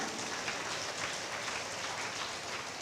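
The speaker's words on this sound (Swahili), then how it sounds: "Hebu tumpigie makofi mtu wa mbinguni." A church audience claps together in a steady, dense wash of applause that holds at an even level for a few seconds, moderately distant, with no speech on top.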